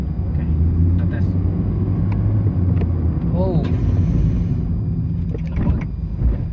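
A 2013 Honda Jazz accelerates in third gear with its Tiptronic shifter, giving a steady engine drone and road rumble heard from inside the cabin, with a brief whine partway through and talking over it.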